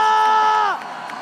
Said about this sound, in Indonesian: So, FPL Grand Final, mana tepuk tangannya?